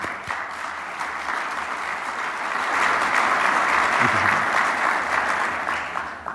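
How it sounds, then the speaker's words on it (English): A conference audience at a resilience conference in Norfolk breaks into applause, dense continuous clapping from a sizable crowd that grows slightly louder midway and holds steady. "Let's give them a round of applause."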